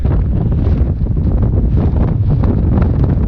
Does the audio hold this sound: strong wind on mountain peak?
yes